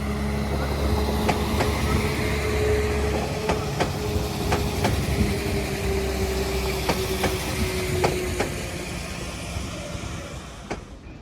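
A Transport for Wales passenger train passes through Crewe station with a loud, close rumble and a steady run of rhythmic clickety-clack wheel beats over the rail joints.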